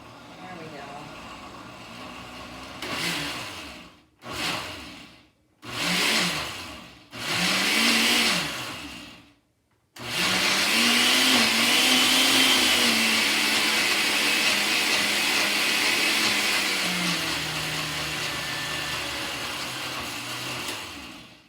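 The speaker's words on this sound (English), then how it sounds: "Just stir it a little bit with a spoon and then go back to blending it." An electric blender whirs through white bean dip in short bursts that stop and start, then runs in one long steady stretch whose pitch drops slightly as it goes; no one talks over it.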